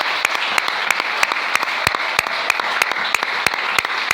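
A church congregation applauds and cheers in praise, a dense, steady wash of clapping with sharp individual claps popping out at a quick, uneven rhythm, close and loud throughout.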